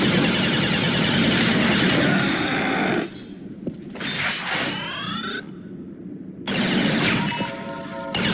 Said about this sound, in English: This is a weapon that can fire these targeting darts or tags that can stick to opponents and attract the fired rounds of the user even around corners.